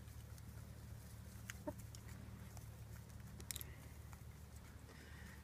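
Faint, intermittent clucking from chickens in the background over a steady low hum, with a few brief sharper calls.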